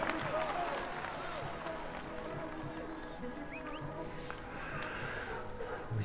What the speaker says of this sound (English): let's applaud him once more.